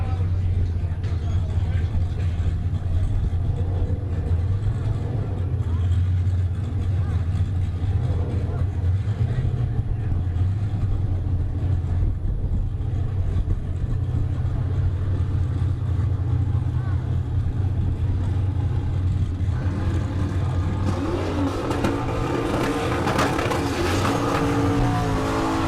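A 1966 Ford Fairlane and a Cadillac drag race side by side on a Kansas dragstrip. Loud engine roar holds steady the whole time, with a harsher burst of noise near the end and an announcer talking over it.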